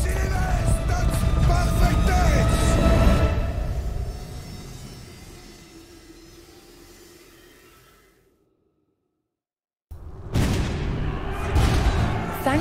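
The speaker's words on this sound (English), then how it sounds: "Thanks to the explosive force of cannon fire, the French were close to victory in this century-long war." Cannon artillery fire from the Hundred Years War campaign of Age of Empires IV, with loud booming blasts in the first seconds that decay into a long rumble, a brief silence, then another burst of heavy fire.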